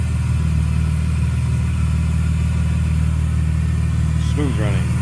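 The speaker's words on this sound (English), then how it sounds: "Smooth running engine." A 1999 Plymouth Prowler's 3.5-liter 24-valve engine runs smoothly at a steady idle, a low continuous hum throughout, with a brief chirping sound near the end.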